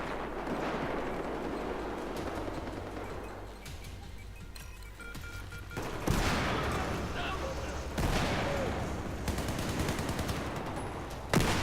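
Bursts of gunfire and booming grenade explosions in Battlefield 4, loud and dense, with sudden heavy impacts around the middle and toward the end, while a person talks over it.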